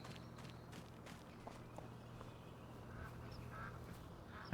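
Faint duck quacks near a stream in Farming Simulator 25, scattered through a few seconds of steady low ambience with occasional footstep-like taps.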